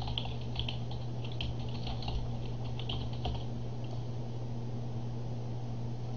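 Quick, light typing on a computer keyboard patters steadily over a constant electrical hum, fairly quiet and close, with no talking.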